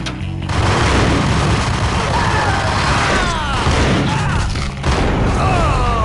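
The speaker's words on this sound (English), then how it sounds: "so I gotta throw a grenade in" A grenade blast booms in the Max Payne shooter, loud and close, amid sustained gunfire and crashing debris, with a brief lull before another burst of explosive noise.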